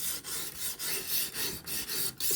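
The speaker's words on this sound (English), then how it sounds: "if you're listening, you can hear this 200 grit stone is refining those scratches" Blade drawn across a 200 grit stone on a Ruixin Pro sharpener, giving steady rhythmic rasping strokes, about nine back-and-forth passes, close and clear with no talking.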